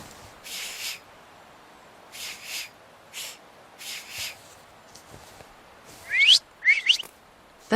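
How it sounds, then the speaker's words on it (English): Whistling in the video game The Thaumaturge: several short, breathy bursts spaced through the first half, then two sharp rising whistled notes near the end, fairly close and clear, with no talk. "So, have you mastered whistling?"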